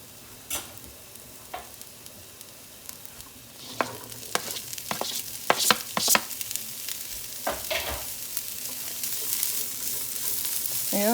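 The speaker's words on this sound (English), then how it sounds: "So throw in some sausage." Sausage dropped into a pan of vegetables fries with a steady sizzle as the pan is stirred, sharp scraping clicks and clatters scattered over the hiss, growing slightly louder toward the end.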